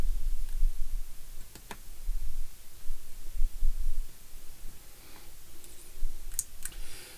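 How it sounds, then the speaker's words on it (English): Wire insulation being trimmed with a small cutter while fitting a Blunami decoder into a Rapido E8 model locomotive: a few sharp, close snips and clicks over a low background hum. "trim the insulation just a little bit here"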